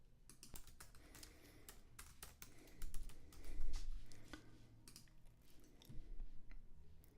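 Tapping out a tweet on a computer keyboard: quick, irregular clicks of keys close by, fairly quiet, with a few brief pauses and no speech.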